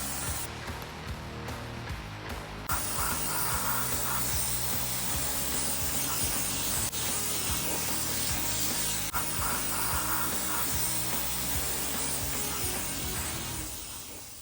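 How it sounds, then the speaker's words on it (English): A Ford Model A body being sandblasted to bare metal gives a steady broad hiss of abrasive spray, continuous and fairly close, with a brief change in texture early on. "With all the sandblasting finished, we finally got our first honest look at what's been hiding under all that paint, rust, and filler."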